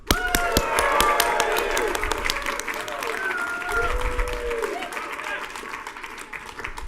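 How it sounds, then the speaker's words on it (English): A hackathon crowd at a developer conference applauds the runner-up team, steady clapping with some cheering and voices, a tonal sweep running through, then the clapping fades slightly toward the end. "Ladies and gentlemen, big round of applause for Back to Sober."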